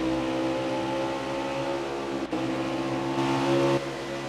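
Race car engines drone steadily at Iowa, a sustained loud motor hum with a brief dropout midway and a slight rise in intensity near the end.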